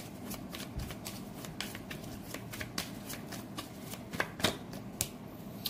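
Tarot cards being shuffled by hand at close range, a steady run of soft riffling flicks and taps with a few sharper snaps and no speech.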